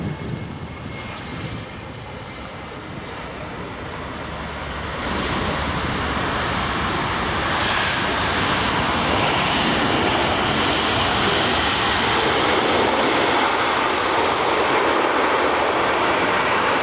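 A Qatar Airways plane lands on runway 23 at Geneva Airport, its engine roar swelling from a distant rumble into a loud, sustained broadband rush that holds steady to the end.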